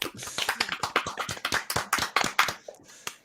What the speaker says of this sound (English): Round of applause for Brandy.